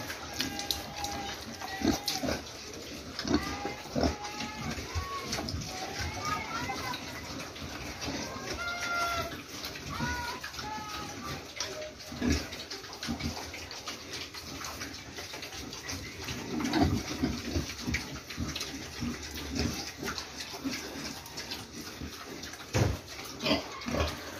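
A two-month-old pig drinks on a farm, with continuous wet slurping and snuffling up close, mixed with farmyard background noise and occasional voices.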